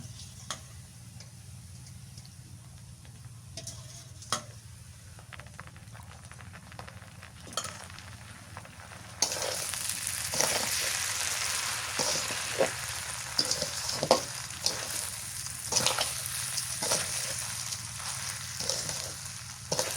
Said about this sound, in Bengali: মাছের ঝোল দিয়ে কষান করি চাউল